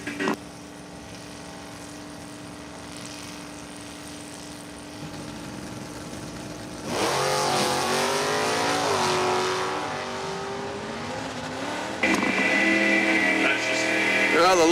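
Drag racing cars including a COPO Camaro at Numidia Dragway, a low idling rumble giving way to loud engines roaring and climbing through gears as they launch, a second surge near the end, with an announcer talking over it.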